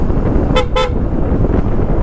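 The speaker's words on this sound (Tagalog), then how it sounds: "Ayun yung busina." Horn of a Kymco Dollar scooter gives two short honks close by, each a bright buzzy toot, over steady road and engine rumble.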